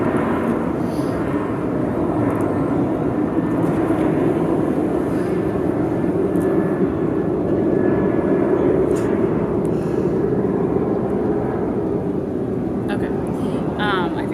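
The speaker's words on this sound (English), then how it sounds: "hold on, there's an airplane." A steady, loud roar of an airplane passing overhead outdoors, a broad rumbling drone that holds throughout without fading much.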